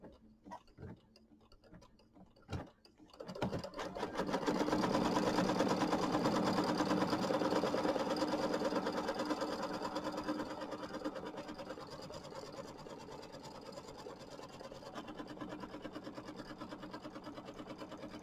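A sewing machine, likely an embroidery machine, runs steadily tacking down fabric on a gnome quilt block, a continuous mechanical whir with rapid ticking that starts after a few clicks and handling noises, close and alone.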